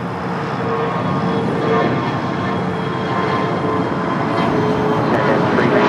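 A Southern Air Boeing 777 freighter at LAX, its engines a loud, continuous broadband roar with a low rumble that holds steady and slowly builds, heard from a distance with no talk over it.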